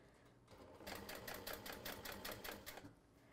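A sewing machine stitches a portable gaming console case in steady, rapid bursts that start after a short pause and run for about two seconds before easing off, close and fairly quiet.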